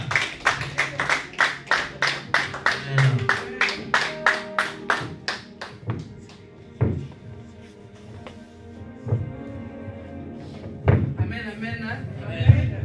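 A congregation at a church service claps in a steady rhythmic beat for about six seconds, then the clapping stops and scattered thumps and voices follow.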